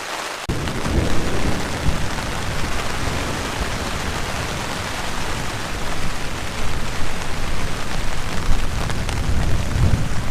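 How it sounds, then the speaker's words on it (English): Heavy rain pours down at a mountain lake in the Upper Hilton Lakes Basin while a loud thunderclap breaks and keeps rolling, a dense continuous roar with rumbling low surges and no voices. "Well, that's a pretty good blast of thunder. This thing's still rolling."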